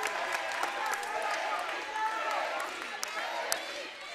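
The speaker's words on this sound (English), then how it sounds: "KB is the chant from the crowd." A volleyball crowd at a high school championship match chants in a gym, a steady roar of many voices with scattered claps and squeaks under it.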